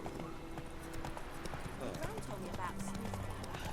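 Horse hooves clip-clop in a steady walking rhythm in the video game The Witcher 3: Wild Hunt, faint and continuous beneath a voice speaking over them.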